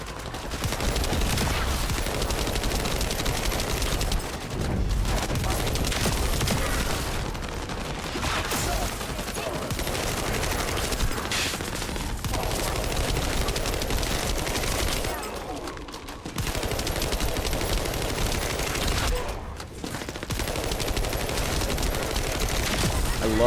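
Sustained SMG gunfire in The First Descendant, dense and loud with rapid bursts running nearly the whole time, a few brief gaps between volleys, and a voice talking over the shooting.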